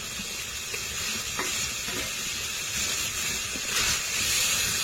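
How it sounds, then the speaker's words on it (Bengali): Fried potatoes are stirred into hot spiced oil, giving a loud, continuous sizzle and hiss with scraping stirring strokes running through it, and no talk. "এখন দিয়ে দেব ভেজে রাখা আলুগুলো"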